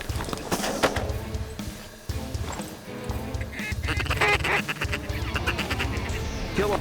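Wild ducks quack and honk repeatedly in a dense, overlapping chorus over field decoys during a North Dakota mallard hunt, loud and continuous throughout the stretch.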